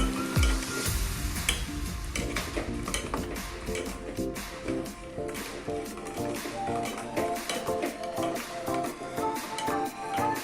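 Payesh, a milk and rice pudding, stirred in a pot over a high flame; steady bubbling and sizzle with repeated spoon clinks and scrapes against the pot, close and continuous, no voices.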